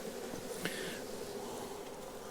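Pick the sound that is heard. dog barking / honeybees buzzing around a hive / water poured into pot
honeybees buzzing around a hive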